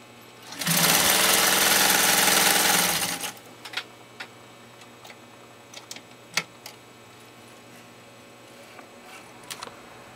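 A PFAFF 18 sewing machine stitches through eight layers of suede in a loud, steady whir lasting about two and a half seconds, then stops, followed by scattered light clicks and taps.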